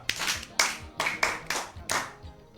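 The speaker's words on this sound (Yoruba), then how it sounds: "ẹ pàtẹ́wọ́ fún Mistura" Audience clapping for a child named Mistura comes in about six sharp, separate bursts of hand claps, close and fairly loud, each dying away quickly before the next.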